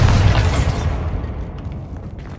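Bombarda spell blast in Hogwarts Legacy: one loud, close booming explosion that bursts at once and then rumbles and fades over a couple of seconds, with no talking.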